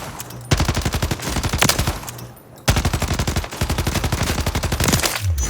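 A DG58 rifle fires in Warzone, long steady automatic bursts of sharp rapid shots, loud and close, with a short pause between two strings of fire.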